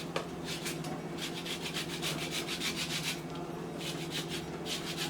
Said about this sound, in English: Some zest from a lemon in there, okay? So I have my zester.